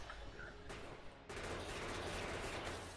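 A gun turret in Factorio firing rapid continuous bursts, faint and distant, with a sharp surge in intensity partway through.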